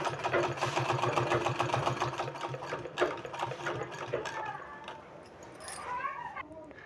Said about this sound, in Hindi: इसका इस तरह से चारों तरफ हमको सिलाई लगा देना है।